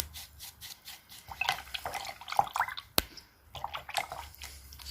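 Acrylic paint stirred into water for homemade Advent decorations, heard as soft irregular sloshing and wet clicks with small drips, close and quiet, including one sharp tap partway through.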